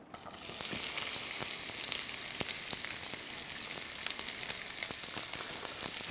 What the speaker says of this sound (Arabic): حطينا احنا تو هنا شوية زيت، راح نحط بصل، والبصل افرموه خشن شوية.